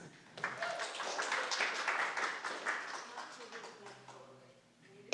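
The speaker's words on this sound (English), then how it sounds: "Clap it up for yourselves." Audience members at a symposium applaud themselves after a game of red light, green light. Dense clapping mixed with chattering voices swells quickly, then gradually thins and fades.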